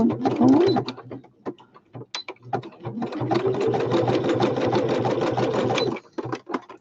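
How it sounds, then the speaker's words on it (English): A domestic sewing machine runs a zigzag stitch in bursts, its rapid mechanical chatter starting and stopping, with a short pause before a longer steady run and a few closing stitches. "I'm going to go round it in my little zigzag stitch."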